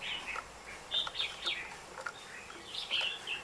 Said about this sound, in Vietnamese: những chú chim họa mi mộc như này là những chú chim mộc tố chất và tuyển chọn rồi